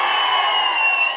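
Crowd at a political graduates' meeting in Maripeda cheering, a sustained dense wash of voices and whoops at close range, with no single speaker standing out.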